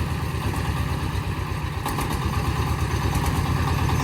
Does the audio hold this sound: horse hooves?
no